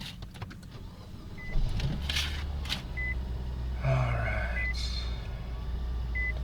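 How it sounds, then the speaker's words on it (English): A Nissan Versa (fourth-generation N18) starts up with engine rumble beginning partway through, while short electronic dashboard beeps chime several times at regular intervals over the idling motor. "Okay, let's start the car and let's see what pops up"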